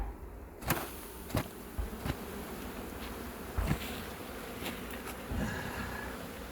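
Honeybees buzzing around a beehive in late October, a steady dense hum close to the microphone with scattered sharper taps and knocks from the hive work and no speech.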